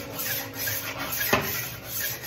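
A Horl 2 rolling knife sharpener works along a dull knife blade, giving a steady, close rubbing rasp with one sharper scrape near the middle and no talking.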